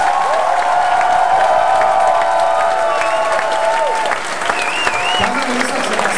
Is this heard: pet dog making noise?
no